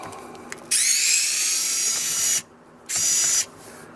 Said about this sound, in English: there's only one screw right here, and it's a Phillips. So we get our Phillips bit.